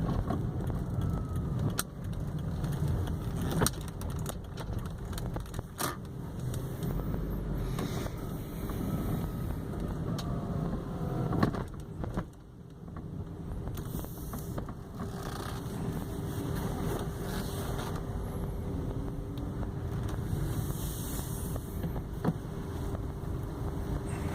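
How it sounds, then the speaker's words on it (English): A taxi sits inside an automatic car wash as water spray, brushes and machinery rumble and hiss continuously, with scattered knocks and a brief dip midway. "the car wash"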